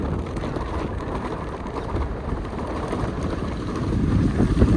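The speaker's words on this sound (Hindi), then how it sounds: "हवा बहुत तेज चल रही है, आंधी तूफान आने वाला है।" Strong wind ahead of a storm buffets the microphone on a hillside plot along Shastradhara Road in Dehradun, a continuous low rumble and roar swelling a little louder toward the end, with no voices.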